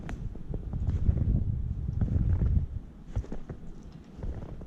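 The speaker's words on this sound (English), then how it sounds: "The wind is blowing." Wind gusts through snowy woods during a New York deer-tracking hunt, a steady low rumble of buffeting with swells and lulls, close to the microphone and with no talking.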